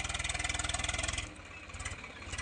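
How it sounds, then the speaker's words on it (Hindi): A tractor engine chugs in a fast, steady rhythmic thump as it drives out of a freshly ploughed field, close and loud, easing slightly midway before picking up again. "अब बाहर निकल रहा है ट्रैक्टर, क्योंकि खेत पूरा हो गया है खेड़ने के लिए"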